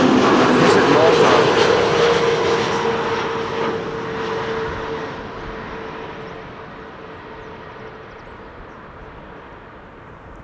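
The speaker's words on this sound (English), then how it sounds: "narrow body types that fly into Schiphol in a row behind one another." A narrow-body airliner flying into Schiphol airport gives a broad jet-engine roar that is loud at first and then slowly fades as it passes, with a faint tonal whine under it and people talking in the background.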